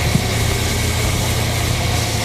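A 1980 GMC van's exposed 350 engine idles after start-up, a loud, close, steady rumble with constant low throb and mechanical vibration, one brief knock near the start and no talk.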